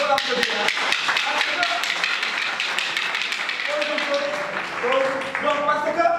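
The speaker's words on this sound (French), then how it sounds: "Il faut l'applaudir." Audience clapping for the mayor at a twinning ceremony in Dalifort, steady rapid claps throughout, close and fairly loud, with voices calling out on top.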